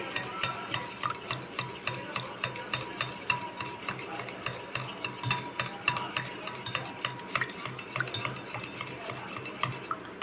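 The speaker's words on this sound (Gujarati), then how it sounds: "હવે એને દહીંને આપણે ફેટી લઈશું." Curd being whisked smooth in a pan, a steady run of quick, regular scraping clicks of a spoon or whisk against metal repeating close up throughout, with no voices.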